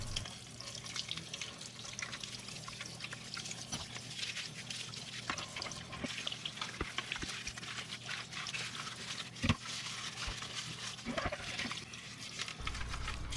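Running water splashes into a sink while a washing machine fabric softener dispenser is scrubbed with a brush, with scattered knocks and clatters throughout; no one speaks.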